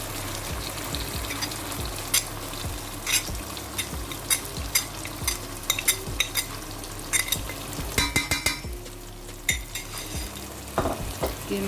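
Minced meat (keema) sizzles steadily as it is fried in masala in a pan, with repeated scraping and clinking stirs of a spoon against the metal, close and busy with no talking.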